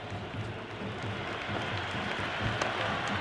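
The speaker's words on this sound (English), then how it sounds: "It's evident and ever so audible that the crowd is at near bursting point at today's play." A large crowd at an IPL cricket match in a stadium roars and claps steadily, a dense, continuous wash of noise that holds for the whole stretch.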